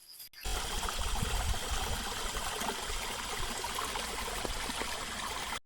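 A stream flows strongly through a channel in a rural area, a dense continuous rushing and splashing of water heard close by, with a brief bump at the start and end.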